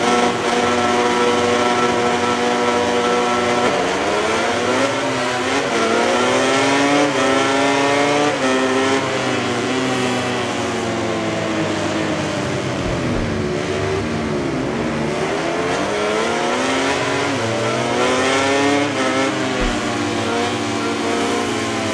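Racing motorcycles in the video game MotoGP 19 at the race start on a Texas circuit, a dense loud roar of many engines revving and shifting together, pitch sweeping up and down continuously with no talking.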